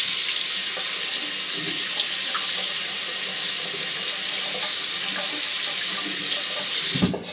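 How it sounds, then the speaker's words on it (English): Tap water runs steadily into a sink while a Rockwell 6S safety razor is rinsed under it, giving a constant close splashing rush with faint clinks and a short knock at the end. "the razor wasn't wanting to rinse"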